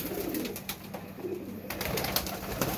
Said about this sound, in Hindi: ये देखें जी ये कबूतर है जी, टैडी मादी लगाई है जी।